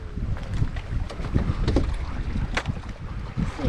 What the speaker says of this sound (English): That wind's picking up.